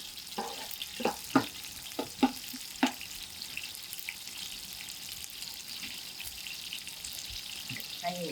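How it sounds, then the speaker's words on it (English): Onions sizzle in a pan over an outdoor fire, a soft continuous fry with several sharp clinks and scrapes of stirring early on, then steady sizzling alone. "I'm going to allow this onions to"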